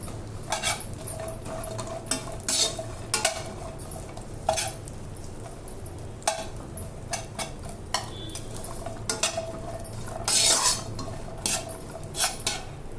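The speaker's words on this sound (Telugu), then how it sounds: "కిస్మిస్ కూడా వేసుకొని బాగా ఫ్రై చేసుకోవాలి" Cashews and raisins frying in a pan for dry fruit laddu, a low sizzle under repeated sharp clinks and scrapes of a spoon stirring against the metal pan, no talking.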